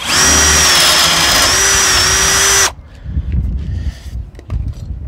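A loud, high-pitched power drill whines steadily for a few seconds while drilling steel, then stops abruptly, leaving faint clattering and handling noises.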